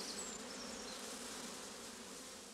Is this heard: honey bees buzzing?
yes